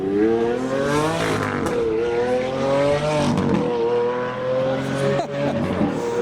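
A Lamborghini Aventador V12 supercar revs close by in a loud, sustained engine roar that rises and dips in pitch over several seconds, with a crowd's voices faintly beneath it.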